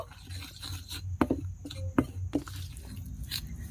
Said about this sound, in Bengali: এখন আমি এই উপকরণগুলো চামচ দিয়ে খুব ভালো করে মিশিয়ে নেব।